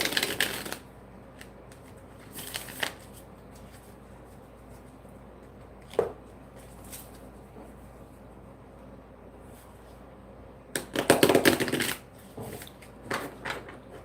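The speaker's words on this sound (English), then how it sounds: "She's going to do the shuffling and everything." Several bursts of tarot card shuffling with riffling rustle, the longest near the end, separated by quiet pauses and a soft tap.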